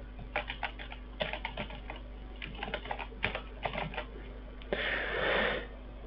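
Quick clusters of key clicks come from a computer keyboard being typed on nearby, irregular bursts with short pauses, ending in a brief soft rustling noise.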